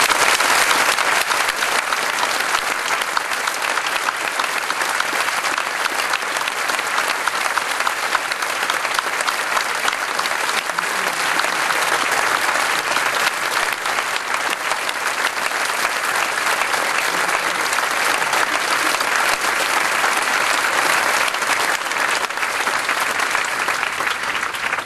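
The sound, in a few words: audience applause congratulating school leavers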